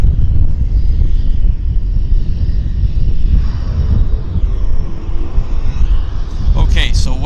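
A WestJet airliner on the active runway at Vancouver airport, a steady loud broadband engine rumble and roar that continues throughout, with a brief higher whine near the end.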